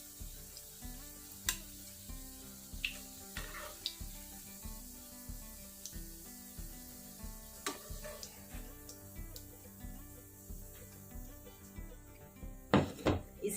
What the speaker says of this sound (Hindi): इसी तरह दूसरी टिक्कियां डालकर फ्राई कर लेंगे